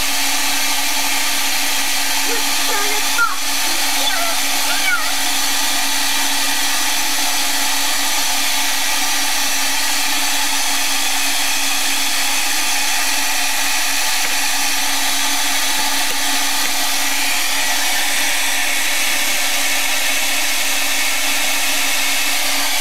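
A hair dryer blows steadily on a watercolor painting, a loud constant close whir with a high airy hiss that runs unbroken throughout, with no talking.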